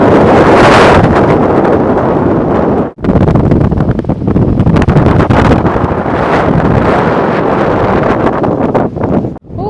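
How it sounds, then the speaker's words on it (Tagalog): Strong wind roars around a house in the middle of the sea, pounding the microphone with loud, continuous low rumbling that breaks off only for a moment. "Oh, it's so windy, Dave!"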